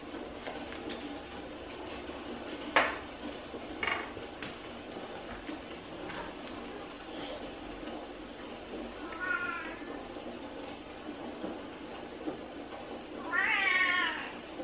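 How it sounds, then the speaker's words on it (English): A cat meows twice, a short rising call and then a louder drawn-out one, close by in an otherwise quiet room with a few soft knocks. "Sorry, that's my cat, y'all."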